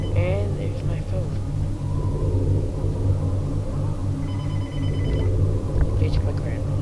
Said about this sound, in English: And there's my phone.